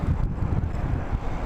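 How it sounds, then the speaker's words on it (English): Low, blustery wind buffets the microphone in a constant rumbling roar, close and steady with no voices. "Windy."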